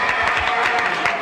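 Audience applause fills the room, a dense steady patter of many hands clapping close by for just over a second.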